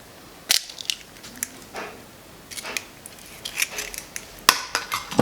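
An egg cracked into a bowl of quick oats for a meatless ground beef substitute: a few sharp, close shell cracks and crunchy taps against the bowl, spread out over several seconds with no voice.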